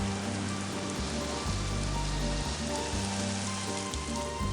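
Steady rain hisses down evenly throughout a countryside scene in an animated Kannada story, with low sustained tones running beneath it and no voices.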